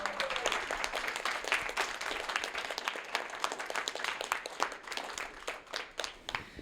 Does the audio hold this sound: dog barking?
no